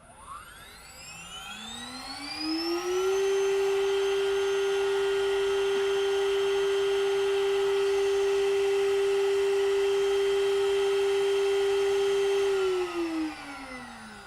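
An LDO Milo Mini Mill spindle spins up from rest with a rising whine, holds a loud steady high-pitched tone at maximum RPM for about ten seconds, then winds down, with a faint electrical hum beneath.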